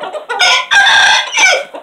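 A native chicken crows and clucks close by, loud and alone: short clucks, then drawn-out strained crowing calls across the two seconds.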